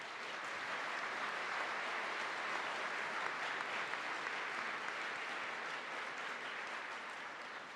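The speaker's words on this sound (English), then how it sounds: "Please join me in a warm round of applause for all of them." Steady applause from a large audience at a City Club State of the State address: an even, continuous roar of many hands clapping, heard from a distance and sustained throughout.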